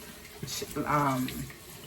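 Lukewarm tap water running into a sink for face washing, a steady moderate flow with a brief voice-like tonal sound partway through.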